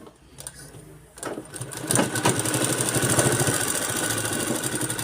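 A sewing machine stitching a churidar seam, starting after a brief pause and then running in a fast, continuous mechanical whir of needle clatter, close and steady, with a faint voice at the start.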